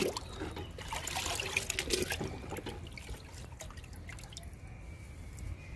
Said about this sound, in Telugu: లిక్విడ్ ఇస్తున్నా